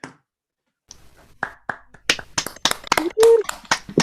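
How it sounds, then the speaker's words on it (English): An audience at a traditional Irish singing session applauds a guest singer: a brief hush, then scattered claps that quickly build into dense, fairly close applause, with a short vocal whoop midway. "can we give the last applause of the evening to the wonderful Naoise Mac Cathmhaoil?"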